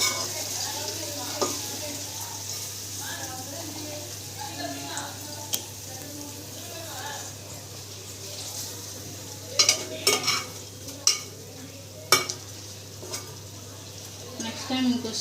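Fish curry frying in a pan, with a steady low sizzle and occasional scrapes and clinks of a spoon stirring against the pan, the stirring growing sharper and more frequent toward the end.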